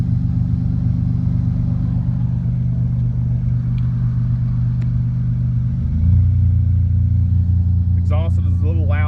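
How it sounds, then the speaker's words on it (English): A 2001 Toyota Tacoma SR5 Prerunner with the TRD off-road package runs with a loud exhaust: a steady, droning engine note shifts lower around the middle. A voice joins near the end. "Exhaust is a little loud for my taste"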